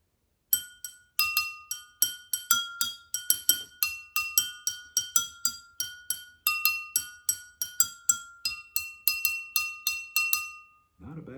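Water-filled glasses tapped in quick succession, around two dozen bright ringing clinks at a few distinct pitches, each decaying briefly, close and clear with no other sound.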